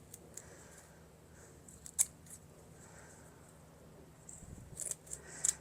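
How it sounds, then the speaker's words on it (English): Scissors snip through a dry loofah gourd, with a few sharp crisp cuts spaced apart, one near the start and a cluster toward the end, over a quiet indoor background. "let me get a pair of scissors and see if I can cut this open"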